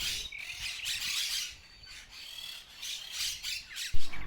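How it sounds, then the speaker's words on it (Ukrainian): Parrots squawk and chirp in repeated shrill bursts, fairly close and lively, with no talking; a soft thump lands near the end. "Є тут вольєр з яскравими папугами, які весело щебечуть."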